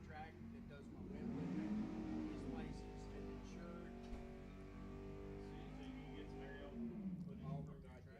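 Drag racing cars, a Mustang and an Oldsmobile at Lebanon Valley Dragway, rev and launch down the strip, engines rising in pitch and swelling, then fading and surging again, with an announcer talking over them.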